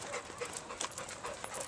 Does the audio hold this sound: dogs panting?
yes